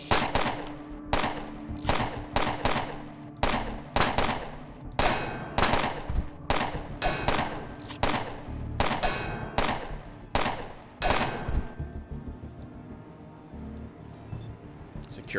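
Automatic security turrets in the game Underrail fire a long run of loud, evenly spaced gunshot bursts, each with a metallic clang, then the shots thin out and fade into quieter background noise near the end.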